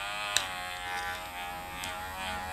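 Powertec hair clipper running steadily at its low-speed setting, a continuous close electric buzz with a faint hum throughout and a brief click near the start.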